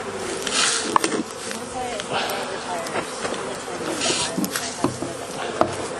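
Honey bees buzz around beehives at a nursery during beekeeping work, a close, continuous droning hum under a speaking voice, with scattered handling knocks and rustles.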